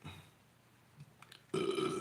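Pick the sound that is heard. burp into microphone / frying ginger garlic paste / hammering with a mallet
burp into microphone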